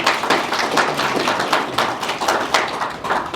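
A small audience at a stakeholder engagement meeting claps to welcome presenters to the podium, a close, fairly loud patter of individual hand claps with a slightly uneven rhythm throughout.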